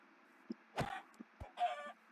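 Chickens clucking in the video game Minecraft, several short clucks and a longer squawk at close range over a faint steady background hum, no voices.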